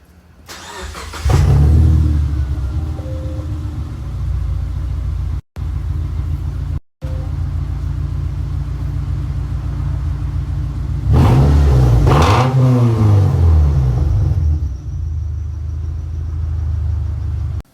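A 2005 Subaru Forester 2.5X with a Flowmaster FlowFX exhaust starts and idles with a loud, deep rumble, then revs up and down sharply before settling back to a steady idle, recorded close by.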